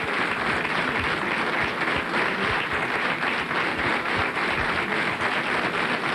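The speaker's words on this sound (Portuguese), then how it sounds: "Neste momento, António Abreu continua a ser aplaudido." A crowd keeps applauding Portuguese presidential candidate António Abreu at a Communist Party-backed campaign event, with steady, dense clapping that continues without a break.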